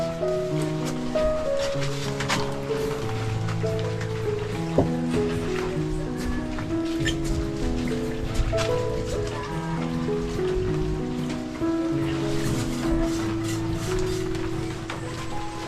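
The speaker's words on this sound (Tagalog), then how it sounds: "Grabe itong ulan na to." Heavy rain makes a steady, dense hiss that runs throughout, with music playing over it.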